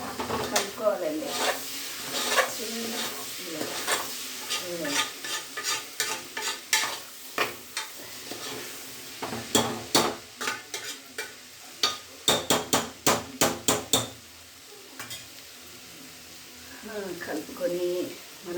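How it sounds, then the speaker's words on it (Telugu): Tomatoes frying in a pan, stirred with a spoon that scrapes in repeated bursts over a soft background sizzle, with quick clusters of scraping strokes and a few short pauses; a voice talks briefly in places. "టమాటాలు వేసేసుకొని కలుపుకోవాలండి."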